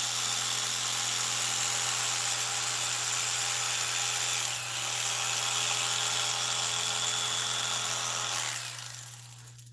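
A power tool grinds down car seat foam in an auto upholstery shop, a steady high-pitched whine held for nearly ten seconds with a brief dip midway before it winds down.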